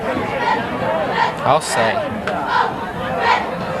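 A packed high school football crowd in the stands on a Thursday night in 1989, at Norristown versus Council Rock. Steady babble and scattered shouts carry throughout, with voices talking close by.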